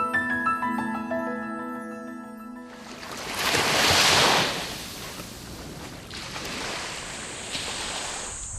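Waves wash onto a seashore in a broad roaring surge that swells and recedes, with wind noise on the microphone, following a few seconds of soft melodic tones.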